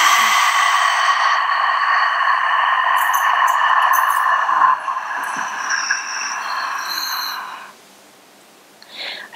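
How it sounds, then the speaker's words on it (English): During a core activation exercise, someone lets out one long, breathy exhale close to the microphone. It holds steady for several seconds, then fades and trails off near the end. "And exhale."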